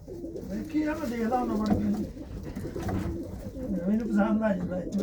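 Several pigeons coo close by in rolling, overlapping phrases, with some indistinct voices mixed in.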